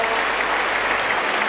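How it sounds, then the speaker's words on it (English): A big stadium crowd at a 1989 New Zealand vs Australia World Cup qualifier at Mount Smart Stadium applauds after a goal, a dense, continuous wash of clapping. "The big crowd here at Mount Smart Stadium are loving it."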